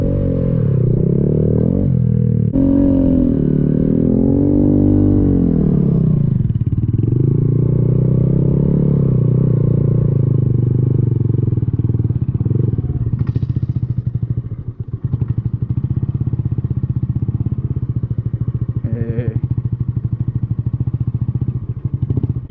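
A Honda Grom motorcycle is ridden close up, its small engine loud and continuous, rising and falling in pitch through revs and gear changes, with occasional clattering thumps.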